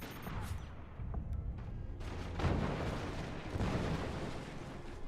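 Mortars fire and land in a video game with repeated heavy booms and rumbling blasts over a steady roar of battle noise, fairly faint and distant-sounding.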